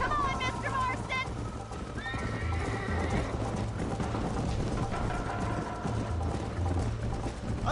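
Horse whinnies and neighs repeatedly near the start over a steady clip-clop of hooves in Red Dead Redemption, with game characters talking throughout.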